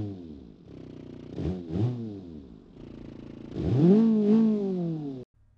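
Inline car engine in BeamNG.Drive revving up and down in a few short bursts, a buzzy tone that rises and falls, then holds a higher climbing rev before cutting off abruptly.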